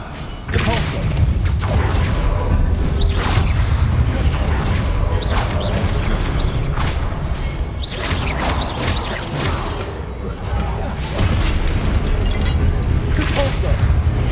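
Repeated bursts of spell blasts in the Hogwarts Legacy video game during a goblin-versus-wizard duel, loud booming thumps and crashes over constant dense battle noise, with a voice shouting incantations among them.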